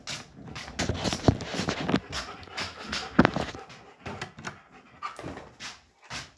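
Dogs pant quickly and rhythmically close by at a door, with short huffs, whimpers and snuffles in an uneven run of breathy bursts.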